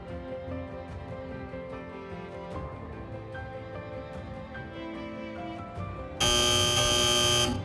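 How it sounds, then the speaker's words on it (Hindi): Quiz buzzer pressed during a Bible quiz show, a loud sudden bright electronic tone that cuts in near the end over background music. "be ready to press your buzzer and here we go"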